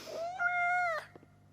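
A cat meows in the video game Life is Strange Double Exposure. A single clear, close, drawn-out meow rises and falls, then a short soft trailing sound follows, with no speech.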